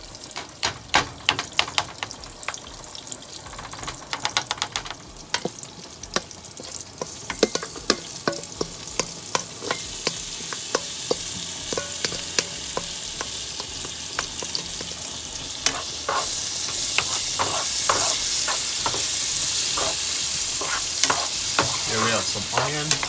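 Brown-sugar-cured ham fries in hot oil, sizzling steadily with frequent clicks and scrapes of stirring against the pan, the crackle growing denser and louder toward the end.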